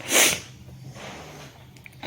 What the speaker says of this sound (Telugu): మార్నింగ్ నుంచి తుమ్ములు తుమ్ములు